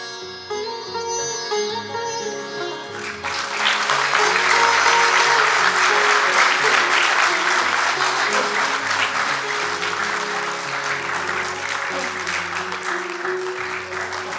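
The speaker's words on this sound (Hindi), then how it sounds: "बहुत बहुत धन्यवाद आप सभी की इन तालियों के लिए।" An audience applauds at the end of a theatre play in Bhopal. Quiet music opens the clip, and then a loud, sustained wave of clapping swells and holds steady to the end.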